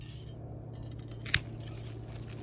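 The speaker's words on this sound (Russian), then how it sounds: "Вызревший побег обязательно издаст характерный щелчок." Pruning shears cut through a ripened grapevine shoot with a single sharp, crisp click, close and brief against quiet outdoor background noise.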